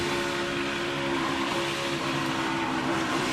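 A Ford NASCAR race car at Daytona heard from an onboard camera, its engine a loud, continuous droning roar with a steady tone throughout and no voices.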